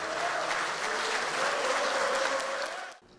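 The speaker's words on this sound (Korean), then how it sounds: "안철수 국민의당 대표님께 큰 박수 부탁드리겠습니다." Applause for Ahn Cheol-soo, leader of the People's Party, at a People Power Party lawmakers' assembly: dense, sustained clapping from a roomful of people that fades out near the end.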